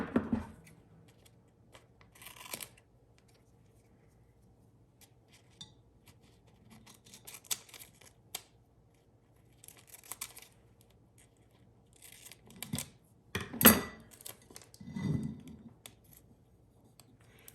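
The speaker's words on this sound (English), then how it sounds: "I'm also going to cut a couple slits right in these sections here, here, and here." Scissors cut a few slits into a rolled section of craft material for a Dollar Tree spring home decor piece, giving faint, scattered snips and crinkles with quiet pauses between them.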